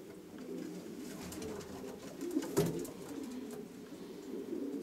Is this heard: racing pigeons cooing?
yes